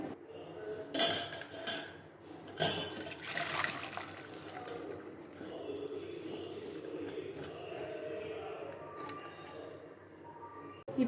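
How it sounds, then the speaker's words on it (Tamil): Cooking water is drained from a pot of boiled cluster beans: a couple of pot clanks come first, then a sustained, close rush of pouring water. "இந்த மாதிரி வெந்த பிறகு தண்ணியை வடித்து நம்ம காயை தனியாக எடுத்துக்கலாம்."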